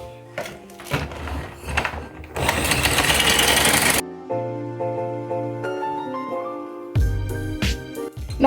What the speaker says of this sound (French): Et nous allons mélanger.